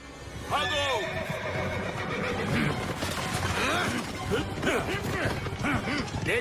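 Horses neigh loudly in an animated Little Singham cartoon chase: a sharp whinny rises early on, then repeated neighs and hoof clatter follow under excited voices and busy action noise.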